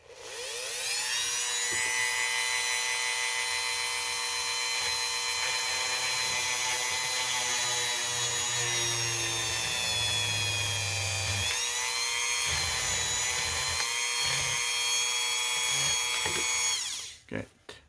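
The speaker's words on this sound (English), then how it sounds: "Then we'll drill it out." An electric drill with an eighth-inch bit whines steadily at high speed for a long stretch while drilling an action figure limb, its pitch dipping briefly under load before it winds down and stops.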